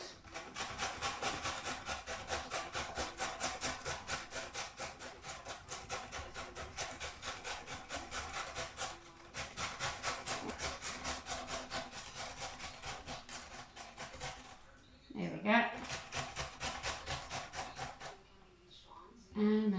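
Rhythmic rasping strokes of a red vegetable being grated for savoury bread, fast back-and-forth scraping repeated steadily and close, pausing briefly near the end.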